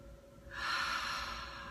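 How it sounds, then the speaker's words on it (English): A single deep, slow breath drawn in during a guided compassion exercise, rising to a steady hiss after a quiet start and holding for about a second, close and fairly soft. "Take a really deep breath in."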